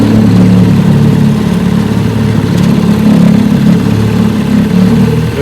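1957 Johnson AD-11 7.5 HP outboard motor idling in reverse during a bayou test run, a loud, steady, close low engine rumble with an even throb throughout and no talk.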